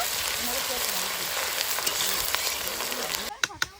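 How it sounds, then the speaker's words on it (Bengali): Chopped garlic and onion frying in a pan at an outdoor riverside picnic, a loud continuous sizzle that cuts off near the end into a few sharp knocks. "রসুন আর পেঁয়াজটা খুব ভালো করে ভাজা করে নেব।"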